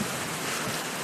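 Heavy rain pouring down in a dense, even hiss, loud and unbroken for a brief moment with no voices.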